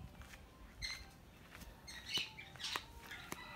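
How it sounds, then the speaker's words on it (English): Small birds chirp outdoors during a car front lip install, faint scattered short tweets over a quiet background hiss. "Yeah, and the birds,"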